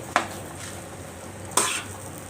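Chinese sausage fried rice being stir-fried in a pan, with a steady background sizzle broken by two sharp scraping strokes of the spatula, close and fairly loud.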